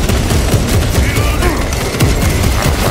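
Orbital guns firing in the video game Space Marine 2, a loud, dense barrage of booming blasts and crackling gunfire that keeps up without a break for the whole stretch.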